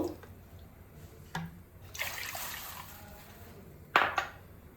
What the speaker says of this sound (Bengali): আমি রসটা আগে করে নেব এই জন্য আমি নিয়ে নিচ্ছি দুই বাটি জল নেব